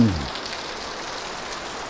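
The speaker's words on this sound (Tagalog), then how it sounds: "Lakas ang ulan." A steady wash of rain pours down onto surfaces, a dense, even hiss with no breaks.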